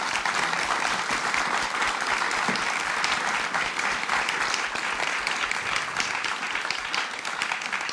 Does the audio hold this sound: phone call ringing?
no